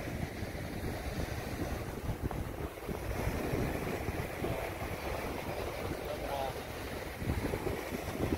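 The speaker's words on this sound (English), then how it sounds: "the beach outside of Orange Hill" Ocean waves wash onto a beach outside Orange Hill in the Bahamas, a continuous faint rushing surf mixed with gusty wind buffeting the microphone.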